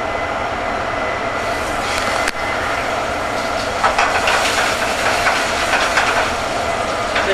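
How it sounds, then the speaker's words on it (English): Mahi mahi fillet laid into a hot pan, a loud, continuous hissing sizzle with a busier burst of crackling in the second half, no speech. "Fish goes in, you can see it's here crackling."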